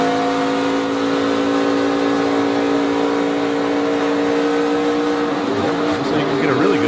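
Joey Logano's NASCAR race car at speed, onboard, a loud sustained engine drone holding steady pitch before shifting and wavering near the end, with commentators talking over it.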